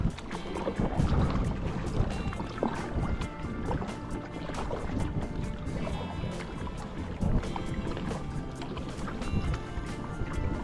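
Choppy lake waves slapping against a kayak on Eagle Mountain Lake, a close, continuous splashing and knocking of water on the hull mixed with wind buffeting the microphone.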